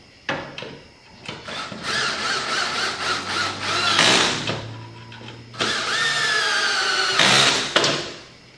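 Bolts being run into a metal bracket during installation of a LiftMaster garage door opener, with a loud power driver whirring and squealing in long bursts, pausing around four seconds in, then a second sustained run.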